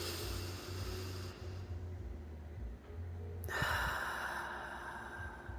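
A slow, deep breath is drawn in and released, soft breathing and exhaling heard close and quiet over faint background hum, with no speech.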